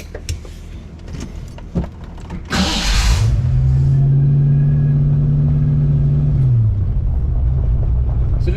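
A Fox-body Mustang with a T5 manual transmission swap and a roller motor with a decent-sized cam fires up after some handling noises, then idles loudly and steadily up close with a deep rumbling drone before settling.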